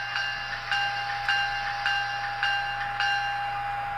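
An N scale BLI PRR P5a box cab model locomotive's electronic bell rings in a steady, regular series of about seven clanging strikes over a constant electric whir, moderately quiet.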